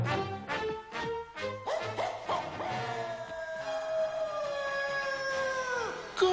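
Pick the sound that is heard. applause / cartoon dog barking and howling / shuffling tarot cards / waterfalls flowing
cartoon dog barking and howling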